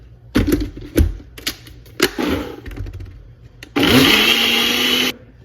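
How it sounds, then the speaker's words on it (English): Batter made with almond milk is blended until smooth: a few scattered kitchen clacks and knocks, then a close, loud motorized whir runs steadily for just over a second before stopping. "And we're just going to mix this until it is smooth"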